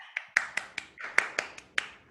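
Sparse clapping at an online fundraising celebration, a few distinct claps in an irregular rhythm, close and fairly quiet, sounding like one or two people rather than a crowd.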